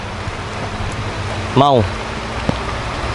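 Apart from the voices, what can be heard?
rain falling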